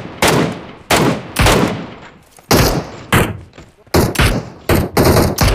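Repeated bursts of gunfire in the mobile battle royale game PUBG Mobile, several loud sharp volleys of shots in quick succession with brief gaps between them, no talk.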